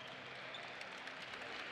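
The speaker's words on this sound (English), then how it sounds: "He'll get a round of applause from the Idaho faithful." A college basketball crowd at Idaho gives a brief, steady round of applause for an injured Portland State player limping off the court, the dense clapping faint and distant.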